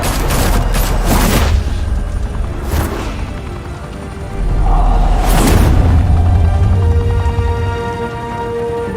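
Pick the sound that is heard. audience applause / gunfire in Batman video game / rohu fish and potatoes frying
gunfire in Batman video game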